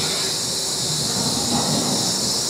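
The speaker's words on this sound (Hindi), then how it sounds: "अमृतसर इंटरसिटी एक्सप्रेस से मेरे को लग रहा है वही होना चाहिए मेरे ख्याल से।" The Amritsar Intercity Express, heading toward New Delhi, roars past close by as a loud, steady rush of wheels and rail noise with a hissing edge, filling the whole moment without any voices.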